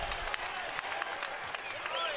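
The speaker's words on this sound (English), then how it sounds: "Crowd anticipating the win here tonight." A basketball arena crowd applauds during a college game between UIC and Wright State, a dense, fairly distant wash of clapping and cheering with a commentator talking over it.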